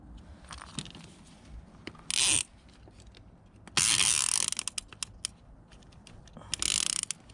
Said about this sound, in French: raccorder et verrouiller le système d'attache à serrage automatique